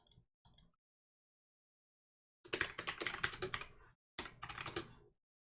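Someone types on a computer keyboard: a few isolated key taps, then two rapid bursts of close, crisp clicking with a short pause between them and no speech.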